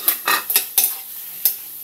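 Beef going into a pan of softened tomatoes for a simmered beef dish, with a few sharp scraping and clinking strokes of a utensil against the pan over a soft background sizzle, close up and without talking.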